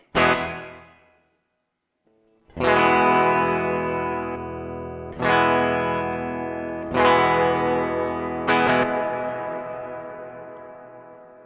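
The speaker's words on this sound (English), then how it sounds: "so the delay is by itself, as you can hear" Four bold electric guitar chords ring out in turn through a NuX Atlantic delay and reverb pedal, each trailed by repeating delayed echoes that slowly fade into a long decaying tail.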